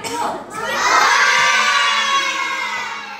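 A classroom of children shouts and cheers together in a loud, sustained burst that swells after a brief dip and holds steady to the end, with no single voice standing out.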